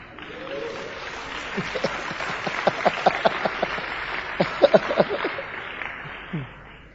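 A church audience claps at a sermon in a large hall, a crowd of hands clapping as a broad, steady patter throughout, with brief louder bursts of clapping near the middle.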